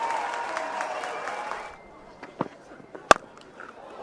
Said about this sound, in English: Applause all around.